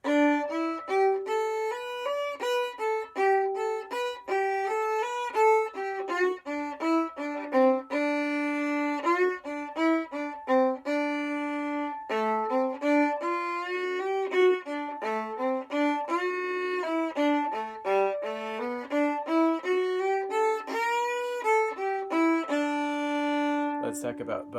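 Solo fiddle playing a section of the old-time tune Highway 52 Rag, a steady run of short, rhythmic bowed notes, close and clear, with a brief pause near the end.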